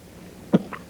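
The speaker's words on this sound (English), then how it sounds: "that one made you cough a little, didn't it" A small child coughs twice during a dental visit, a short sharp cough followed by a fainter one, close by in a quiet room.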